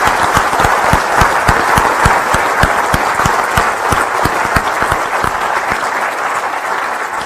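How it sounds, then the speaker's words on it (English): A conference audience at an open source keynote breaks into sustained applause, many hands clapping steadily and loudly for several seconds with a dense, even rhythm and no talk over it. "So can I get a round of applause for everybody here?"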